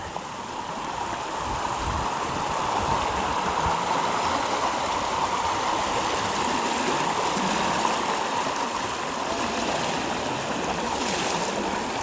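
Floodwater rushes past in a loud, continuous stream during a thunderstorm, a steady broadband roar and splash with no breaks.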